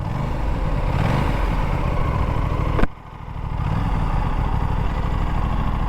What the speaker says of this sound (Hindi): सो ये है आइडलिंग साउंड एप्रिलिया RS 457 की।